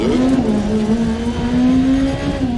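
A rally car drives on a punctured tyre in Dirt Rally 2.0. The engine holds a loud, steady drone with small pitch wavers and no speech.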